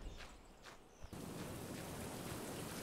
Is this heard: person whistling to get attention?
no